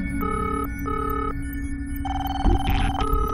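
Several telephones ring one after another, each sounding in repeated electronic bursts that overlap over a low hum, with a brief thump near the end.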